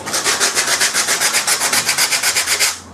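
Wood being sanded by hand on a model build, a loud, close, steady back-and-forth scraping of about twenty even strokes that stops near the end.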